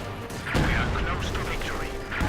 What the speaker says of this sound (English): Explosions going on, and there's another field gun, then barrages back in return.